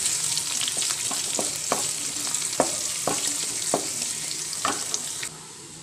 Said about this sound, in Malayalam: ഉള്ളി മുളകൊക്കെ നന്നായിട്ട് മൂപ്പിട്ടെടുക്കുക.